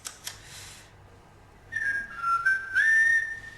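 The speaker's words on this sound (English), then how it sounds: "Whistling, of course." A person whistles a short wavering melody, rising and falling for under two seconds after a few faint clicks and a brief hiss, close and clear against a quiet background.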